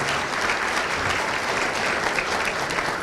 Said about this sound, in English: I was going to ask for a round of applause, but you did that on your own